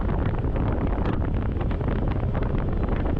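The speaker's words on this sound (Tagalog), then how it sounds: "Medyo malamig-lamig na yung hangin dito." Wind buffeting the microphone of a motorcyclist on winding roads in cool air, a dense, loud, steady roar with no voices.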